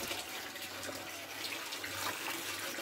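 Water runs steadily as maize is washed to strip off ash before dawn while making bean tamales in El Salvador, a continuous close splashing rush with no voices.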